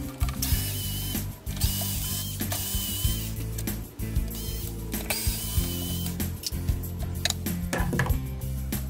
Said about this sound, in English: To remove the top, to remove this, unscrew these four screws right here.